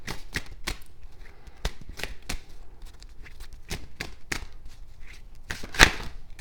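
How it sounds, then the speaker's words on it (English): Long oracle cards are shuffled by hand, giving a string of sharp, irregular taps and slaps close by, with one louder snap near the end and no talking. "Part of the reason these cards are difficult to shuffle like this is because my hands are small and the cards are long."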